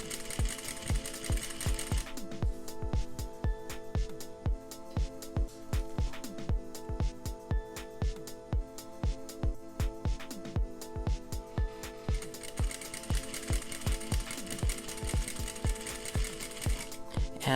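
A sewing machine stitches bias binding onto a seam in steady rapid bursts, its needle thumping in a regular rhythm with brief pauses. The sound is close and moderately quiet, with no talk.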